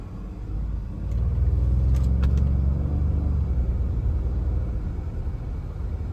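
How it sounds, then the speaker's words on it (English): A 2021 Ford F150 Lariat FX4 pickup drives slowly through a neighborhood, its transmission shifting gears, heard from inside the cab as a steady low engine and road rumble that swells and eases with no talk. "all that shifting going on, that's just busybody action right there"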